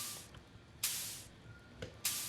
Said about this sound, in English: you can hear the sound effect going off every time we press it down